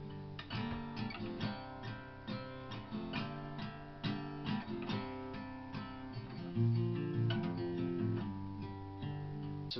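A guitar plays a variation of the chord progression from a song, quiet strummed and picked chords in a steady rhythm with no voices.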